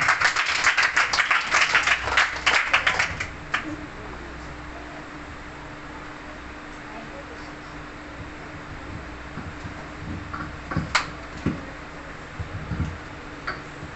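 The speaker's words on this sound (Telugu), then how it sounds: "అందరూ కూడా చప్పట్లు కొట్టి ఆహ్వానిద్దాం." A meeting audience claps to welcome a speaker, a short burst of dense applause lasting a few seconds before fading into quiet room tone with a few faint taps.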